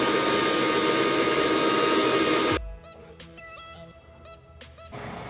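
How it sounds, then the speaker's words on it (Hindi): A mixer grinder whirs loudly and steadily as it grinds coriander, ginger and green chillies, then cuts off abruptly after about two and a half seconds, leaving quiet kitchen sounds. "अब इसको ग्राइंड करती हूँ।"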